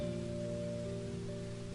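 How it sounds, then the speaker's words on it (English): Steady rain falls in a continuous, even hiss with soft patter on surfaces, heard alone at moderate level with a faint low hum beneath. "It's been raining the last few weeks non-stop."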